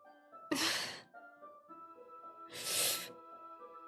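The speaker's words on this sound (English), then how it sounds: "A sharp inhale like someone is sucking the air through their teeth" A sharp hiss of breath sucked in through clenched teeth in Doki Doki Literature Club, heard twice, each strained inhale about half a second long, close and fairly loud over a steady musical drone.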